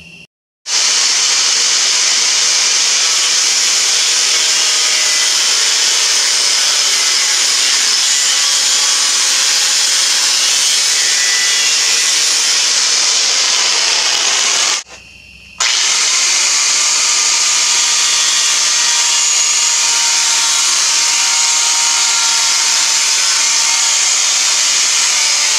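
A hand saw cuts a ceramic tile clamped in a vise, producing a steady, bright, gritty rasp that runs continuously, breaks briefly once midway, then resumes at the same even level.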